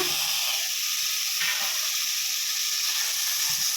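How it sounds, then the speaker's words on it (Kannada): Spices and ingredients frying in a pan for Malnad-style chicken sambar, a loud steady hissing sizzle throughout with faint stirring knocks, no talk. "ಸೊ ಇದು ಕೂಡ ಇದ್ರ ಜೊತೆಗೆ ಚೆನ್ನಾಗಿ ಫ್ರೈ ಆಗಲಿ"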